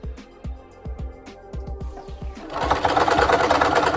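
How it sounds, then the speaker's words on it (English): A sewing machine sews a rolled hem on a chiffon wedding gown, with slow separate needle thumps at first that speed up into a loud, continuous, close rattling run. "Then you're gonna just sew that along there."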